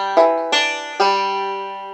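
Banjo plays a short lick of three bright plucked notes, each attack ringing out and fading, with no slide between them and no talking.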